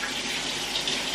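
Tap water runs steadily from a faucet into a sink while raw chicken is rinsed and rubbed with lime or lemon, a close, even splashing hiss with no talking.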